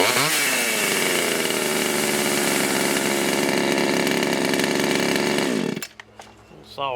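A Stihl MS170 chainsaw running after a carburetor adjustment, a loud, close, steady high-pitched two-stroke engine drone that holds for nearly six seconds before dropping off abruptly, followed by brief faint clatter.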